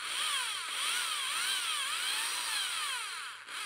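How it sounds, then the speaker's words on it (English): A drill bores steadily into the trunk of a Deshojo Japanese maple bonsai, giving a loud, continuous high whine that wavers in pitch under gentle pressure, heard alone and close. "Applying gentle pressure to my drill"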